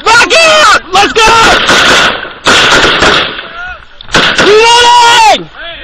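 Gunfire erupts during a cover-and-fire command in an airsoft or combat skirmish, with sharp bursts of shots mixed with loud shouting voices close by.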